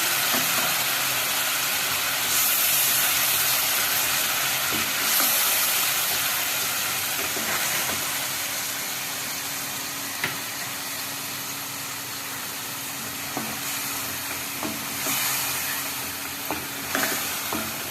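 Ginger-garlic paste fries in a pan for a Bengali potol-alu curry with fish roe, giving a steady close sizzle with scattered stirring clicks and scrapes and no voices.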